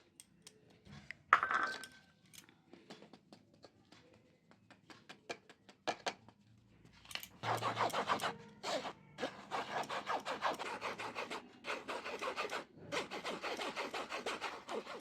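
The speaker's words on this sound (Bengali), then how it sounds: "চালনিতে চেলে দিয়ে দেবো" Flour sifted through a sieve for a homemade cake, a close scratchy rubbing and tapping that repeats in quick rhythmic bursts, quiet and sparse at first and then steady and busier.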